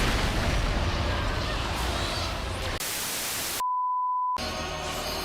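Tank limit break in Final Fantasy XIV Endwalker: a loud, dense burst of roaring noise and rumble that cuts off abruptly, followed by near silence broken by a steady pure electronic tone, then the roar resumes.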